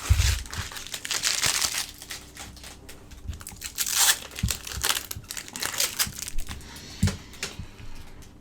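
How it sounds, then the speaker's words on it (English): Protective plastic film is peeled off an Edifier G2 II RGB 7.1 gaming headset, producing close, continuous crinkling and crackling with a few sharper rustles throughout. "Oh, we've got some nice peels here, so let's peel those."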